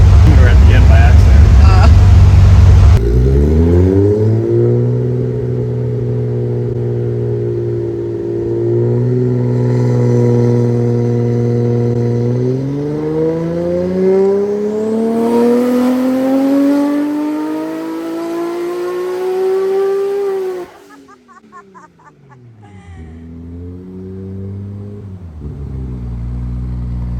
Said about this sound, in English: then I hit the rev limiter at the end